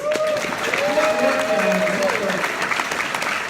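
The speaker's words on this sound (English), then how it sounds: "Let's have some applause, too," Applause from an audience at a 2019 Chicago conference keynote, honoring the event co-chairs; steady dense clapping fills the space while voices and cheering rise over it.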